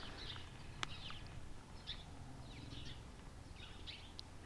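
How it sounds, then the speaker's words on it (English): Meadowlarks singing outdoors, faint and distant, several short bright whistled phrases over low background rumble. "But we're hearing meadowlarks."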